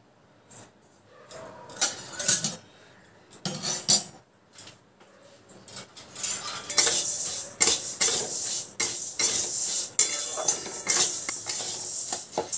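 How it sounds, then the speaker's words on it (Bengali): Dry moong dal roasting in a pan over a gas flame, with a spoon scraping and clattering against the metal in irregular bursts, close and fairly loud, with a steady rattling hiss building toward the end. "আগে আমি মুগের ডালগুলোকে শুকনো খোলায় ভেজে নেব।"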